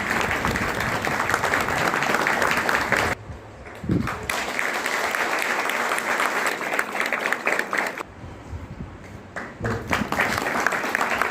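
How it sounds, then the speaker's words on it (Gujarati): An audience gives a loud, sustained round of applause for children at a district-level innovation festival in Khambhalia, with two brief lulls where the clapping thins before swelling again. A voice can be heard faintly. "આ બાળકો માટે તાળીઓનો મહત્વ રહેશે"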